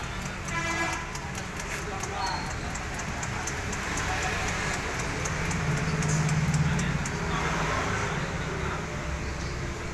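Light drizzle falls around a bus pool in Yogyakarta, a steady soft patter holding through the whole stretch under broadband hiss, with distant mechanical noise and faint voices in the background.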